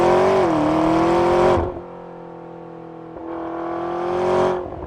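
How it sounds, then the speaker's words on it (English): Twin-turbo engine of a McLaren 650S Spider revs up loud and close behind the cabin with a rising turbo spool, drops away with a whooshing blow-off, then builds again and releases a second time. "The turbo spool and the blow off and everything, oh my God, it's so good right behind your head."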